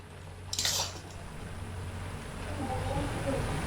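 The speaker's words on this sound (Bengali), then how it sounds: "একটু নেড়ে চেড়ে দিচ্ছি শাকটা" Boiled pumpkin greens with soft papaya and stems are stirred in a pot, starting with a single sharp clank of the utensil against the metal, followed by a low, steady simmering rumble.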